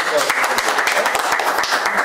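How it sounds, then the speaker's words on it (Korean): A studio audience at a local current-affairs talk show in Uljin claps in a lively, continuous burst with some distinct close hand strikes, while voices carry faintly underneath. "박수 한번 부탁드리겠습니다"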